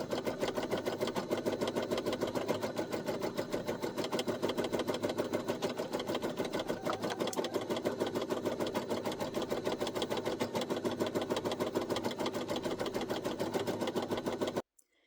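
A Brother SE1900 embroidery machine stitching a coffee coaster runs in a fast, even mechanical rhythm, its needle chatter continuous and close for about fifteen seconds before stopping abruptly.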